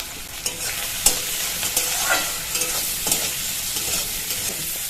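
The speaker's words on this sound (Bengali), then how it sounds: "চিংড়ি মাছটা এরকম লাল করে ভেজে নিয়েছি" Prawns fry in mustard oil with salt and turmeric, giving a bright constant sizzle broken by scattered spatula scrapes and clicks, close and steady with no voices.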